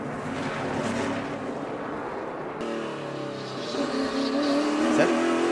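NASCAR Nationwide Series race cars running side by side at the 2013 Nationwide Children's Hospital 200, a loud, steady roar of engines close by with a sharper tire squeal in the second half.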